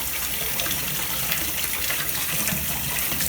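Cold tap water runs steadily over an unpeeled beet in a sink, a close, constant gushing splash with no voices.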